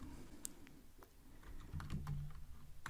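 Quiet clicks of typing on a computer keyboard, a handful of scattered keystrokes tapped at an irregular pace against a low room hum.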